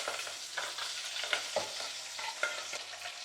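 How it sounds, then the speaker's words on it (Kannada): Mustard seeds and curry leaves sizzle and crackle in hot oil for a tempering in a Kannada home kitchen, a steady close frying hiss with scattered sharp pops and stirring clinks, with no voices. "ಇದಕ್ಕೆ ಎಣ್ಣೆ ಕಾದಿದೆ. ಸಾಸಿವೆ ಮತ್ತು ಕರ್ಬೇವಿನ ಸೊಪ್ಪು ಹಾಕೋತೀನಿ."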